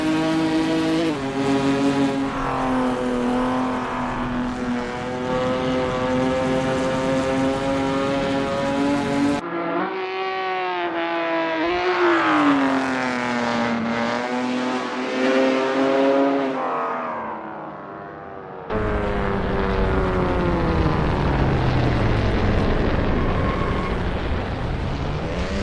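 A GT race car in a sim racing game at Goodwood rolls through an out lap, its engine note rising and falling through gear changes and revs. The sound is steady and continuous, with clean cuts between segments and no talking.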